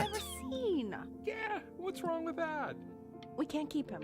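A kitten meows repeatedly in the video game Before Your Eyes, short high cries mixed in with voices talking over them.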